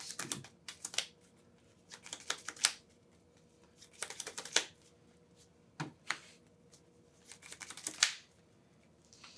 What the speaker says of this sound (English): I feel intimidated by your hand shuffle.